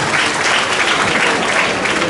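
An audience at a church feast cultural meeting and award ceremony in Puthuppally claps in a steady, dense burst of applause that fills the hall evenly from start to finish.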